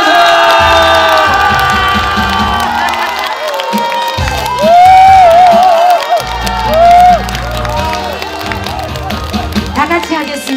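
Festival crowd applauding and cheering to welcome a guest singer, the clapping and whoops mixing with music and a loud voice over a sound system throughout.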